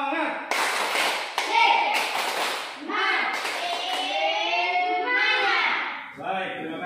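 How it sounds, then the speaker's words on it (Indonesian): A classroom of children does a rhythmic spirit clap, bursts of hand claps mixed with loud children's chanting voices and a teacher's talk, close and energetic throughout. "Tepuk semangat."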